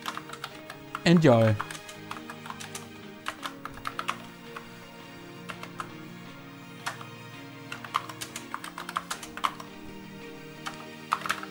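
Keys clack on a repaired Luxor ABC 80 computer keyboard, a long run of irregular clicks under a faint hum. A voice speaks briefly near the start.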